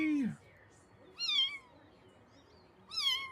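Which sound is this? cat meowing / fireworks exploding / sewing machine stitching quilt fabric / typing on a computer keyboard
cat meowing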